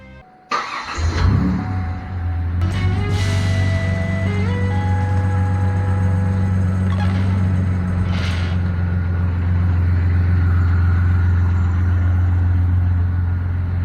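An old Buick hot rod engine cranks and fires up, then settles into a loud, steady, rumbling idle close by, with a few faint higher tones and clanks over the running engine and no talking.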